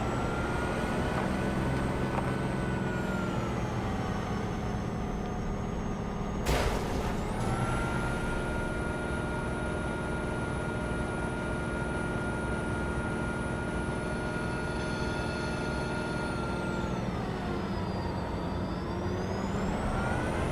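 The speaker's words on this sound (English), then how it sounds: "Pretty big trucks." Large trucks rumble past in Cyberpunk 2077, a sustained engine drone with a passing whoosh and air-brake-like hiss midway and a pitch sweep near the end, steady and loud throughout with no talking.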